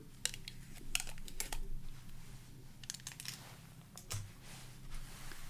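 Heat tape being peeled off a freshly sublimated mug just out of a Cricut Mug Press, with scorched paper still wrapped around it: a few sharp crackling, ripping bursts at close range over a low steady hum.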